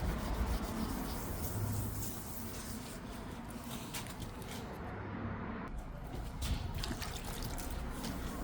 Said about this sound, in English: Now 800 grit is the step, as this is the most coarse sandpaper I'm using.